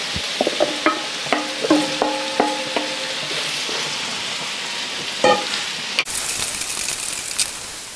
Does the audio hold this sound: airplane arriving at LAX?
no